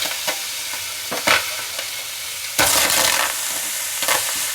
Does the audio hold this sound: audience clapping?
no